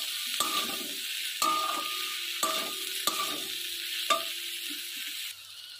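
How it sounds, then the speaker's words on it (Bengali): Water lily and hilsa fish head curry stirred in a pan: five distinct spoon scrapes at irregular intervals over a low simmering sizzle, which quiets near the end; no speech. "আবারও নেড়ে দেবো"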